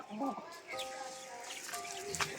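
Hens clucking softly in a quiet yard, with drawn-out tonal clucks and calls coming and going at a moderate distance, faint in the background.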